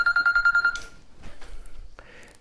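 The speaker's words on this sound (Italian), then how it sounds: "scusate il telefono" Telephone ringing during an Italian talk broadcast: a rapid electronic trill of repeated bright pulses sounds for under a second, then cuts off, followed by faint handling noise.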